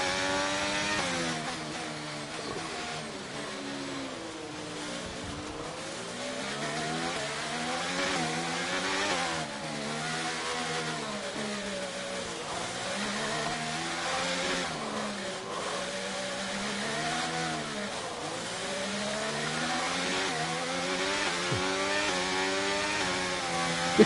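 Race car engines in the F1 2023 video game scream continuously, pitch climbing and dropping repeatedly through gear changes and corners, loud and steady with no talking over them.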